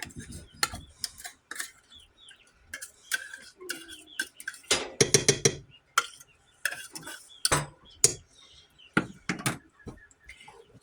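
Fork breaking up canned tuna in a bowl for homemade tuna helper, with many quick clinking taps and scrapes in irregular bursts, close by, and a voice talking intermittently.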